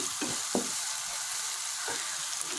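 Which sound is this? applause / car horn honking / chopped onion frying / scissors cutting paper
chopped onion frying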